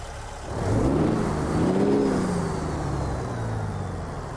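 A Cat C15 550-horsepower diesel in a Jon Ruda Peterbilt 389 hauling a reefer trailer in American Truck Simulator cranks and catches, then settles into a steady, loud low rumble with a slight rise and fall in pitch.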